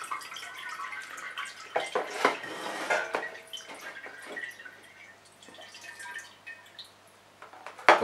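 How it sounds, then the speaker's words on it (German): A homemade kombucha culture is lifted out of its liquid with a ladle, and close drips and splashes fall back into a glass vessel along with clinks against the container. "Jetzt nehmen wir unseren Pilz aus der Flüssigkeit raus."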